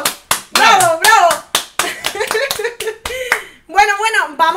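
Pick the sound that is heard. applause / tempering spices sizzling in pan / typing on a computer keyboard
applause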